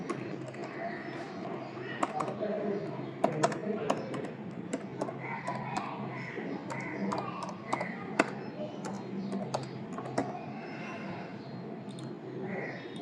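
Someone types text on a computer keyboard to set up a vinyl cutting machine job. Sharp key taps come in uneven runs against a steady background hum, with speech present.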